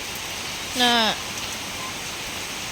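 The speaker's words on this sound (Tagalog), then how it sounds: "Kusog kayong ulan" Heavy rain hisses steadily and evenly on a small hut, filling the whole background, while a voice briefly speaks over it.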